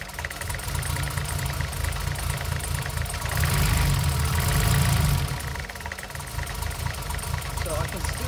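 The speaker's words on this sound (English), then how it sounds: "Let's just fire up the engine and see what happens." A Mercedes M110 engine idles with a misfire, giving a steady uneven chugging with a slight rise in the middle, close and continuous throughout.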